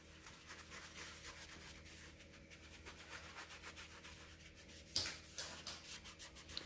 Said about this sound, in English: I've got my clean towel, and I'm just going to start buffing.